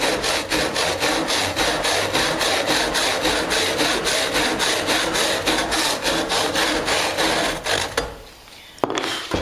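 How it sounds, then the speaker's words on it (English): A hand saw cuts across a timber shoulder held on a bench hook, making loud, close, rhythmic rasping strokes that run steadily before the cutting stops and a brief knock follows. "Again, using our bench hook, exactly the same as we did with the piece one. Cutting across the shoulder."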